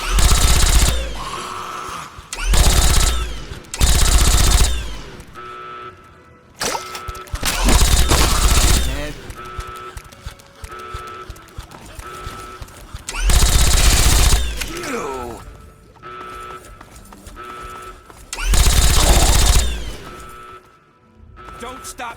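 Automatic gunfire in Fallout 3 erupts in several long, loud bursts separated by short pauses, with game sounds in between and voices talking across the fight.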